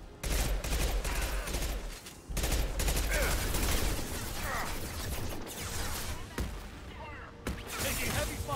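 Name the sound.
gunfire in the video game Mass Effect 2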